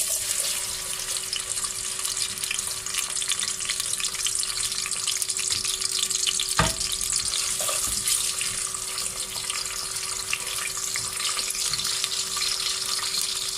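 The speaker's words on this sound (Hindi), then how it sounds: "प्याज को अच्छे से फ्राई करेंगे।" Onions frying in hot oil for aloo matar pulao, a steady hiss of sizzling that stays even throughout, with a single brief knock partway through.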